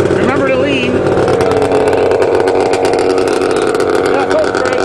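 A snowmobile engine drones loud and steady while riding across fresh snow on a farm, with a voice briefly speaking over the continuous motor noise.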